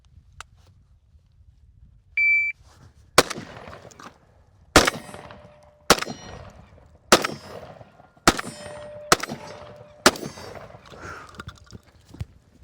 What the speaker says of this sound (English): Slug shot.